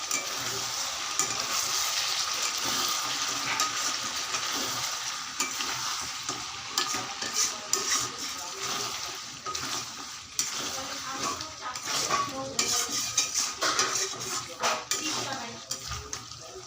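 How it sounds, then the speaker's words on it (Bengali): Chicken curry with country chicken being stirred and fried in a pan, continuous sizzling under frequent scraping and clanking of a spoon against the pan, close and busy throughout. "ভালো করে কষাতে হবে।"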